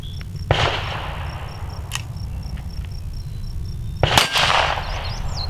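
A Smith and Wesson Model 41 pistol fires outdoors, two sharp cracks several seconds apart with a smaller click-like snap between, over a steady background of insects chirping.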